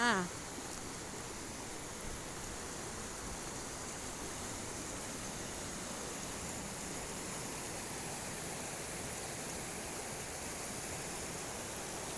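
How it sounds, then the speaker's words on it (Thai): Water flowing strongly over a weir at a forest waterfall, a steady broadband rushing roar that holds constant and close throughout. "น้ำไหลแรงมากเลยจ้า"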